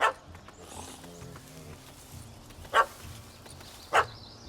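A puppy barks at a cat up a tree in The Witcher 3, sharp yelps at the start and twice more later, separated by low rumbling game ambience.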